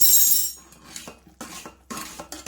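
Metal spoon scraping and clinking against a pan while stirring melted jaggery with cardamom powder in a home kitchen, several short scrapes and taps close up after a brief bright ringing clink.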